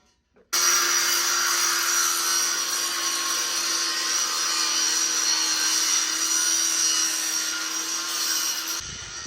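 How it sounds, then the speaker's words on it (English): A steady, loud abrasive grinding sound comes from a tool cleaning up a steel pipe on a farm before welding, starting abruptly and running continuously for several seconds, then cutting off, with no talking. "we got Jabe over there cleaning the pipe up"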